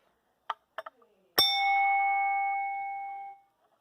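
A Potter MBA-6-24 alarm bell is tapped a few times lightly, then struck once hard on its gong, ringing out loud and close with a bright, sustained metallic tone that decays over about two seconds.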